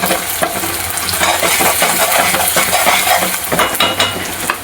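Two large onions, sliced long, fry in hot oil in a pan for a Kolhapuri-style mutton dish. A loud, continuous sizzle is broken by frequent scraping stirs and clinks of the utensil against the pan.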